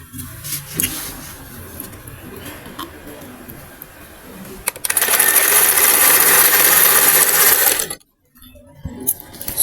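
A sewing machine runs a tight stitch through African wax print fabric, starting with light ticking and handling sounds, then a steady, loud whirring burst of about three seconds that stops abruptly before faint sounds resume.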